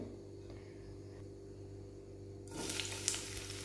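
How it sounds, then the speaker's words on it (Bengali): Oil hitting a hot kadai for dried fish curry, a sudden bright sizzle bursting in after a quiet stretch of low kitchen hum and continuing close and steady to the end. "তো চলো এবার কড়াইতে তেল দিই, কড়াইটা অলরেডি গরম হয়ে রয়েছে"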